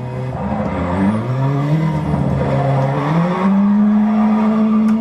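Rally car engine from the video game Dirt Rally, revving steadily with pitch climbing through gear changes, loud and continuous for about five seconds with tyre noise, no talking.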